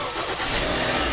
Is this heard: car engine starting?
yes